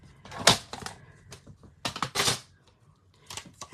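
A paper trimmer slices cardstock while beach-themed cards are being made, a few sharp close clicks and scraping cuts in short irregular bursts separated by quiet pauses.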